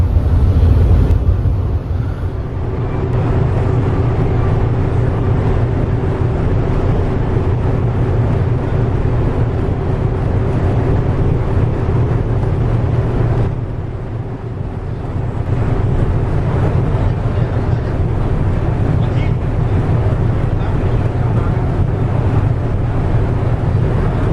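The old passenger ship KM Dobonsolo, about 30 years old, sails at sea at around 15 knots, giving off a loud, constant low engine rumble mixed with wind and water noise that dips briefly midway.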